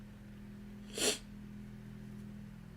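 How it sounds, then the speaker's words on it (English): A single sharp sneeze bursts out close to the mic from a person mid-chat, brief and loud against a steady low hum, with quiet room tone before and after. "oh, I'm gonna sneeze again."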